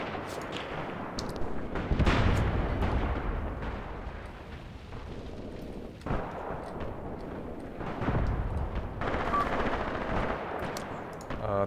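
A Maxim machine gun fires in the war strategy game Graviteam Tactics, with rattling bursts of automatic fire and distant booming battle noise rolling on throughout.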